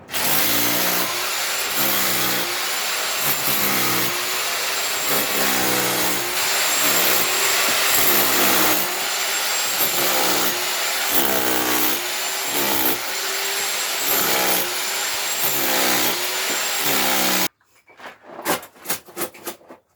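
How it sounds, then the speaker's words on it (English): A hammer drill grinds in long, loud, pulsing bursts that keep repeating, ending with a few short clattering knocks. "we have a better hammer drill now"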